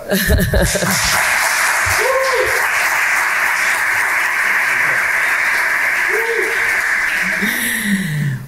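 Audience at a round-table on young women entrepreneurs claps for the panel, a continuous mid-level patter of applause with a few brief tonal sounds, like feedback or a voice, rising above it.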